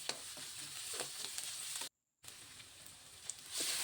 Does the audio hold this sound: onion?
yes